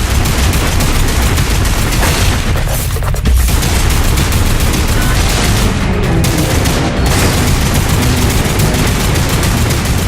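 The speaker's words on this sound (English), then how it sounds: "Some shooting there" Dense, loud gunfire rattles continuously in the video game Lost Planet 3, rapid bursts and booming shots layered into a nonstop fusillade with no talk.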